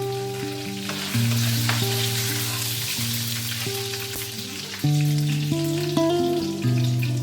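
Chopped garlic frying in a pan over a low gas flame, a steady close sizzle running throughout with sustained tonal music on top.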